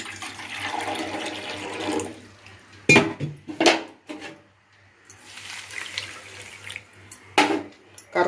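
Water is poured over jaggery in a pot and stirred to dissolve it, with splashing and pouring bursts broken by brief clatters and quieter gaps, close and moderately loud with no talk.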